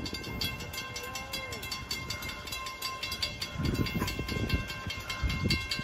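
Amtrak train 98 rolls past at Auburndale with a rhythmic clatter of wheels over rail joints, a soft hiss and a faint whistle-like tone, moderately distant and steady, surging a little louder toward the end.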